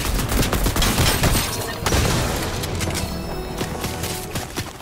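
Rapid bursts of gunfire from a Fortnite match, dense overlapping shots in a steady barrage near and loud for the whole stretch, easing slightly toward the end.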